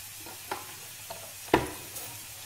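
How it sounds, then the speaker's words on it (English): Garlic and onion mixture stirred in a pan, a few soft scraping strokes and clinks over a quiet background sizzle. "Give that a bit of a stir."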